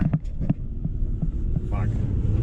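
A steady low mechanical drone and throbbing hum of a vehicle winch on a third-generation Toyota 4Runner straining to pull a car in fresh snow, with occasional dull thumps over the whir.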